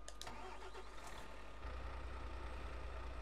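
Bührer tractor engine in Farming Simulator 22 cranking with a few clicks, then catching and settling into a steady low diesel idle.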